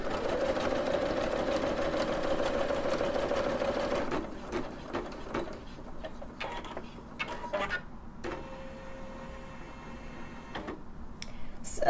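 A Singer Legacy SE300/SE340 embroidery machine stitches with a loud, steady mechanical whir for about four seconds, then drops to a quieter run punctuated by clicks and taps from the mechanism.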